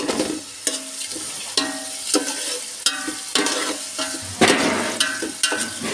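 Onions sizzle in hot oil for chicken biryani, with a steady frying hiss broken by regular scraping clinks of a spatula stirring the pan about every second, close and clear.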